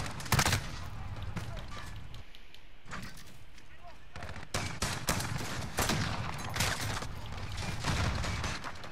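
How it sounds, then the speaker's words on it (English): Repeated heavy shotgun blasts in Call of Duty: Modern Warfare gameplay, loud and close, firing in uneven bursts over a busy background of other game noise. "the fucking shotguns, man"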